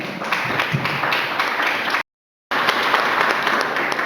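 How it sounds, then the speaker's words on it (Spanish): Church congregation applauding the Lord during a sermon, a steady dense wash of clapping that cuts out for half a second, then resumes at the same loudness. "¿Cuántos le dan un aplauso al Señor?"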